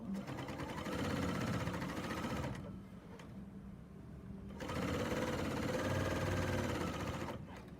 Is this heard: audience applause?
no